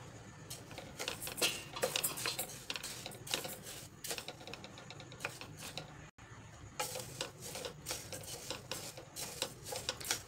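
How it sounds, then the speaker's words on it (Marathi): Rice being dry-roasted in a pan for thalipeeth flour, a quiet continuous rattle and scrape of grains stirred against the metal, with irregular faint clicks and shuffles and no speech. "आता टाकायचे तांदूळ"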